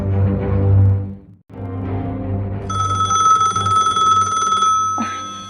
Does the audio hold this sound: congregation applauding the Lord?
no